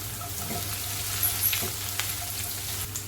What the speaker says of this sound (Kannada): ಇದನ್ನು ಸ್ವಲ್ಪ ಗೋಲ್ಡನ್ ಬ್ರೌನ್ ಆಗೋ ತನಕ ಫ್ರೈ ಮಾಡ್ಕೊಳ್ಳೋಣ.